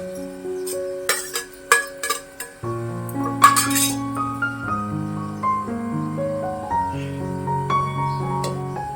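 A lid clinks down several times onto a cooking pot of mixed dal with fenugreek leaves, with sharp, close metallic taps early on, followed by a steady tonal background.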